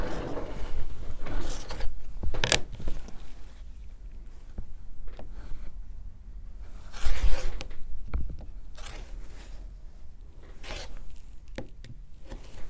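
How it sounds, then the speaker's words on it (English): A blade cutting through sewn fabric along a marked line, giving repeated short rasping snips and scraping strokes with pauses between, close and fairly loud, no talk. "I'm going to cut right on this marked line"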